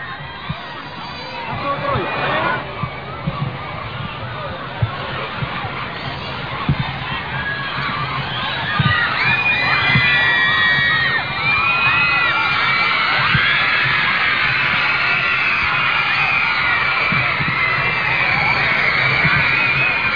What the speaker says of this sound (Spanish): la ovación es sin duda bastante por parte de los menores